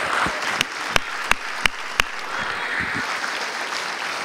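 Applause from a church congregation during worship, with several loud, evenly spaced sharp claps standing out over a mass of softer clapping and murmuring voices.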